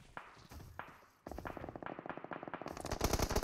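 Rapid bursts of gunfire in PUBG Mobile shooting at an enemy, starting sparse then becoming a dense, loud, steady rattle of repeated shots.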